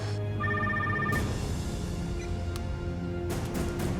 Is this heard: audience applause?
no